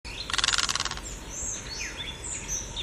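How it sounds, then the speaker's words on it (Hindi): A heron's harsh call heard as a rapid burst of about a dozen clipped notes, followed by thinner chirps and calls from other birds in the background, fairly close with no voices. "हेरन, हेरन।"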